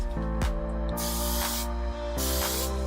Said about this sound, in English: So I also like to layer session spray on it.